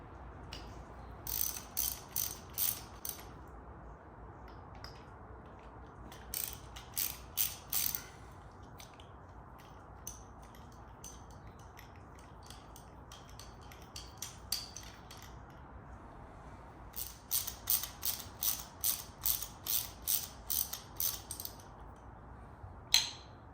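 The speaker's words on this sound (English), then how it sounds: "So now I'm going to pull the spark plugs out." A ratchet wrench loosening spark plugs on a Caterham Seven engine, quick bursts of close, crisp clicking separated by quiet pauses, with a long run of clicks near the end.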